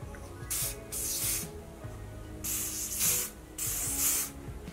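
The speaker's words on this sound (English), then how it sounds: "So I'm gonna go ahead and I'm gonna spray everywhere." Three bursts of aerosol spray hissing close up onto wig lace, each lasting about half a second to a second, separated by short pauses.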